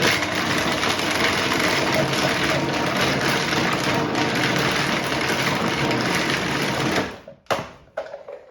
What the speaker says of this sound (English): I'm just going to whiz that a little bit just to chop it up a little part.